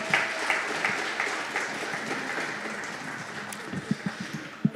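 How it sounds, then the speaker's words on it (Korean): An audience at a press conference applauds with dense, steady clapping that thins toward the end into a few scattered individual claps. "박수하겠습니다"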